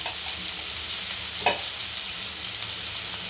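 Onions and chillies frying in a pan, a steady broadband sizzle with a few soft scrapes, one slightly louder stir near the middle, no voices.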